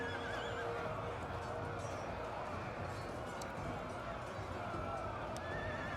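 Horses whinny amid a dense rumble of galloping hooves and battle noise, with a voice talking over the din, in a video game battle with Nordic mounted raiders.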